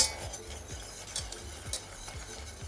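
A utensil stirs sugar into boiling syrup in a pan for a chocolate-passion frozen parfait, giving steady rhythmic scrapes and swishes, about five strokes, over a soft continuous bubbling simmer, close and alone without talk.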